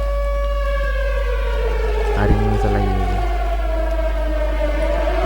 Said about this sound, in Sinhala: මොකද සයිරන් එකක්